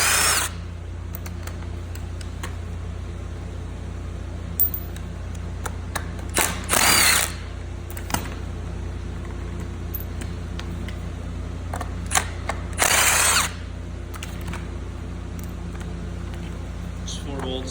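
Power tool removing 12mm bolts from an AR5 shifter, with a few short loud bursts of whirring over a steady background hum and a voice talking between them.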